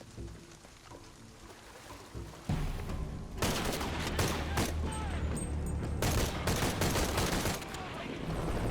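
Gunfire in Shadow of the Tomb Raider: after a quieter start, a loud, dense stretch of rapid shots and bursts fills the scene over game ambience, with a voice talking underneath.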